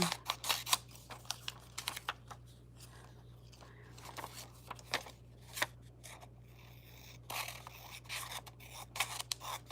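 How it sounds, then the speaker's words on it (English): Scissors fussy cutting around small paper pieces during a papercraft session, a quiet run of irregular snips and light paper rustles close by, with a steady low hum underneath. "And these, I'll fussy cut around them before I use them."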